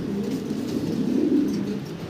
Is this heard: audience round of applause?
no